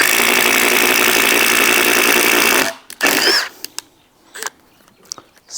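A cordless drill on speed setting 3 runs with a loud, steady, close motor whine. It cuts off partway through, followed by scattered clicks and knocks.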